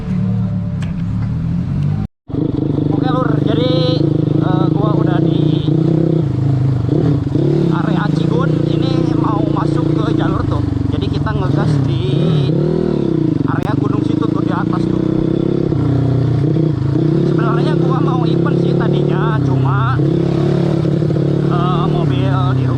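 Modified moped-style motorcycle (bebek modif) ridden on asphalt, a steady mid-pitched engine drone with rising revs and rattling clatter, loud and continuous throughout, with a rider talking over it.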